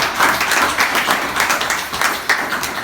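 A group of community leaders claps together at a gathering, a steady patter of many hands filling the whole moment with no voices over it.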